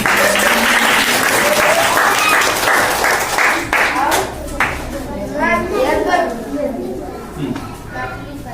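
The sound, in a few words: schoolchildren applauding loudly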